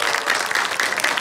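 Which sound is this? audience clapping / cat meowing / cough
audience clapping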